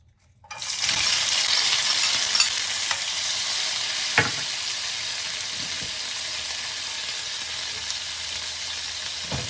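Cooking oil hisses into a hot pan for fried chicken with bitter gourd, the sizzle bursting in loudly after a brief silence and then holding a steady, bright crackle with a few small clinks.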